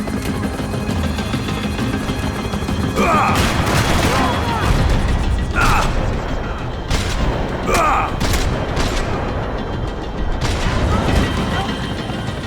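Rifle fire in the video game Max Payne 3 comes as loud repeated bursts of shots amid booming explosions and heavy mechanical noise, with shouting voices over the chaos.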